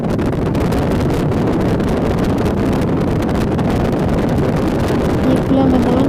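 Strong wind sweeps across an open field near Jabal al-Rahmah, buffeting the microphone with a loud, continuous low roar and rumble while someone talks over it.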